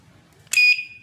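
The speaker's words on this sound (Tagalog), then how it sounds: "It means, nag-activate na po yung alarm niya." A motorcycle security alarm gives one short, sharp electronic beep on activation, loud against a quiet room.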